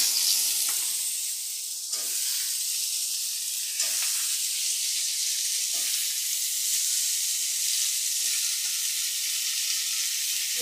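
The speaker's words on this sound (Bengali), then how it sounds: "এবার দিয়ে দেবো এই কেটে রাখা লাউগুলো।" Cut bottle gourd with thin potato slices frying in a pan for a Bengali crab and gourd curry, a loud steady sizzle with occasional stirring scrapes at regular intervals.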